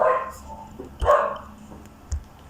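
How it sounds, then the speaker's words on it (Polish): A pet dog barks indoors, a few sharp barks spaced about a second apart, fairly close and clear with no talking over them. "Tylko mój pies teraz szczeka."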